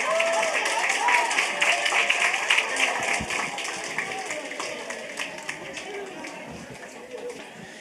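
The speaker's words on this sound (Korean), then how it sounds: "우리 박수 한번 쳐줘." Congregation clapping during a Wednesday church service, a broad wash of applause that holds steady across the whole stretch, with voices talking and calling out underneath it.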